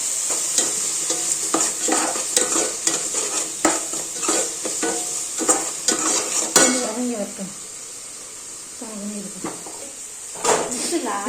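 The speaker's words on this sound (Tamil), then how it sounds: "வெங்காயம் நல்லா வதங்கட்டும்" Onions and tomato frying in a pan with salt and turmeric while cooking mutton biryani, with steady sizzling and frequent stirring scrapes and utensil clinks, partly under nearby talk.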